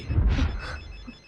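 A telephone rings in a Telugu movie action scene: a short, fairly faint electronic ring that fades within about a second.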